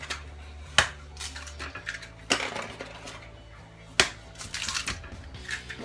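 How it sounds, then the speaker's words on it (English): Eggs cracked against a bowl in a home kitchen: three sharp, separate taps spaced a second or two apart, with small clinks and shell sounds between them over a quiet background. "I'm gonna crack probably about 4 eggs"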